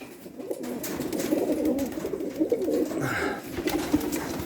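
Many Janssen racing pigeons in a loft coo together in a constant low, burbling chorus, nearby and moderately loud, with occasional brief rustles and a soft whistle-like chirp.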